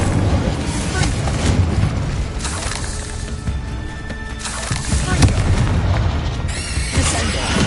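Incendio fire spell cast in Hogwarts Legacy on PS5, a dense roaring, booming blast that fills the whole stretch with loud crackling bursts and layered game effects, swelling again near the end.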